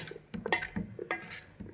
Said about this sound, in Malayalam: ഇളക്കി കൊടുക്കുന്നു.